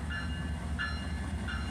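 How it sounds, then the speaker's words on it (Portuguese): Passenger train rolling through Cachoeira Escura station, a steady loud low rumble of wheels and carriages with faint repeating squeals, no voices. "o trem de passageiro aí passando"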